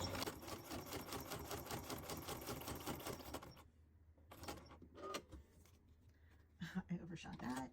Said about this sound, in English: I'm gonna go ahead and finish sewing, and I'm gonna have extra holes